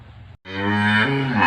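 A cow moos once, loud and close, a long sustained low call during a livestock health examination of ruminant cattle, following a brief softer lowing sound and short gap.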